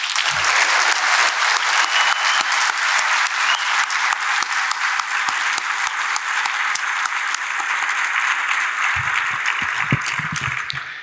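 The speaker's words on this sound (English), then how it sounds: "I would like to ask you for a round of applause for the organization" A conference crowd at a programming keynote gives a dense, continuous round of applause that holds steady for about eleven seconds, loud and close.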